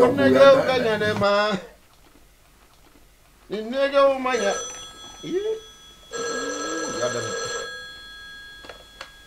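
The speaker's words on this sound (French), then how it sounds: "Je vais appeler Gara tout de suite" A telephone rings out while a call is placed: repeated ringback tones sound alone after someone speaks French, with a few separate ring bursts and steady tonal lines before the line is answered.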